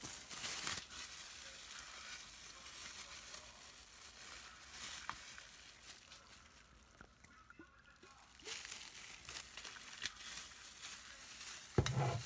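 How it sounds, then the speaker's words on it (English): A spoon stirs extra virgin olive oil for homemade lip gloss, a soft continuous scraping and swirling with brief clinks, fairly quiet and close, pausing briefly midway before resuming. "I'm gonna use my spoon to mix it up."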